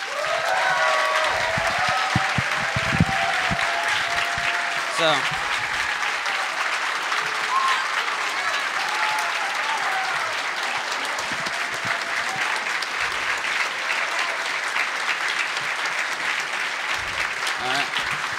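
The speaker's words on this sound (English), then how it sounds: "So one more round of applause for them." A large crowd applauds at the closing ceremony of a pony fan convention, sustained loud clapping that fills the hall for a long stretch, with shouts, cheers and scattered voices mixed in.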